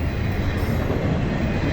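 Freight train carrying new Amazon trailers rolling past at Magnolia, a loud steady rumble of wheels and railcars close by, no voices.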